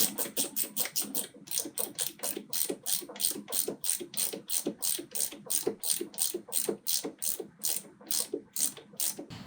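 A hand ratchet tightening kickstand eliminator bolts on a Kawasaki Ninja 400, as a long run of rapid, crisp, evenly spaced clicks in quick strokes, close up and alone with no talking.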